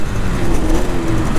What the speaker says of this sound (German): Okay, ich bin ja schon den Motor überdreht.